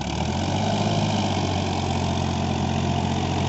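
A Farmtrac 60 Supermaxx 55 hp tractor, 2021 model, pulling an 11-tine cultivator in fourth low gear, chugs steadily at idle-to-mid revs, a continuous low rumble with vibration and no pauses, close by.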